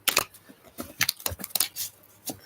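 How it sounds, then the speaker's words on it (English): A deck of playing cards being shuffled during a tarot-style reading, giving quick crisp riffling bursts and snaps in an irregular rhythm, close and fairly quiet with no voices. "As you can see, I'm shuffling the cards."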